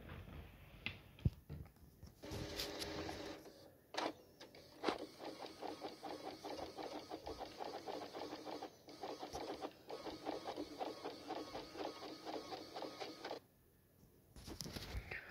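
An inkjet printer runs through a print job, its carriage mechanism whirring and buzzing in a steady rapid pattern for several seconds, with brief clicks and pauses at the start and a drop to quiet near the end.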